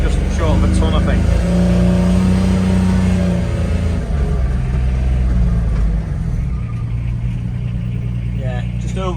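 A Corvus UTV weighing about a ton with its driver, capable of around 40 mph, rumbles steadily as it drives over soil, its engine droning loudly and continuously while someone talks over it.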